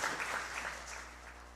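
Applause from the audience at an award ceremony as an honouree is welcomed, a brief burst of clapping that fades over under two seconds.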